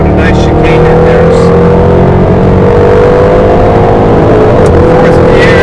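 A 2011 Jaguar XKR engine on a race track, loud and continuous from inside the car as it brakes and accelerates with shifting engine pitch, while someone talks over it.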